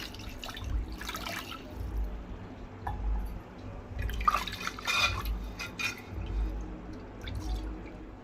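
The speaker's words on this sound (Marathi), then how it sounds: "आता परत त्याला एका स्वच्छ पाण्याने धुवून घ्यायचं आहे" Clean water splashes and drips in short bursts against a hollow clay pot, a close, wet, sloshing rinse repeating several times without any voices.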